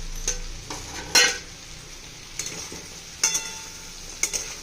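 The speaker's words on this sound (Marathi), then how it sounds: "गूळ चांगला वितळेपर्यंत हलवायचा आहे आपल्याला" Raw mango curry with jaggery stirred in a pan, a soft low sizzle broken by several sharp metallic scrapes and clinks of a spoon against the pan, close by with no talking.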